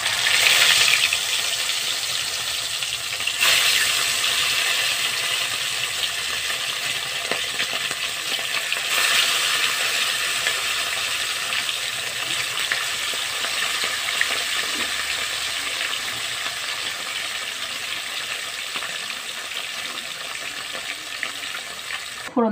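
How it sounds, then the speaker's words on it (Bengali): Bhola fish frying in hot oil for a mustard curry, a steady broadband sizzle running the whole time with a few brief clatters, fairly loud and close, no talking. "এভাবে সবগুলো মাছ ভেজে নেব।"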